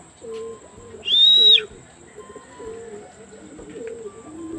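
Pigeons coo softly in repeated low notes, with one sharp brief bird call standing out near the start.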